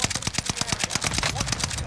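NZ-41 rifle in Warzone fires a fast continuous automatic burst of sharp, evenly repeating shots, loud and close throughout, with some game noise underneath.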